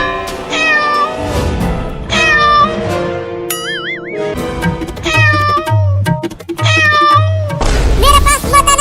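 A cartoon cat meows in a Hindi desi comedy cartoon, giving a brief wavering, pitch-bending cry amid lively background music and animated voices talking.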